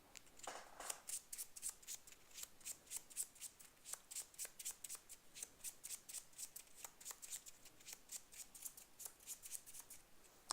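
A board game deck of cards shuffled by hand, a long run of rapid, crisp riffling and snapping card sounds repeating in bursts for about ten seconds, quiet and close, with no talking.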